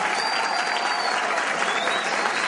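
Loud, steady applause from an audience at a candidates' debate for university rector, a dense crowd clapping close and continuous for the whole stretch.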